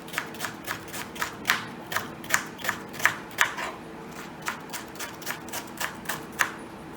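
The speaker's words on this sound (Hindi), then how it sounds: "So I'm going to chop one onion." Steady, rhythmic knife chops on a cutting board, a quick sharp tap roughly every third of a second, close and clear.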